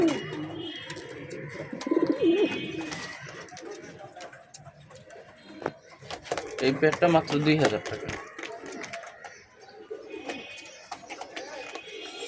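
Giribaz pigeons coo in low throaty bursts among flapping and shuffling, close by, while someone talks over them.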